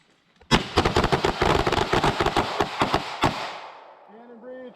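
Gunfire during a firearms safety course drill: a loud close burst of rapid repeated shots for about three seconds, echoing off, followed by a brief voice.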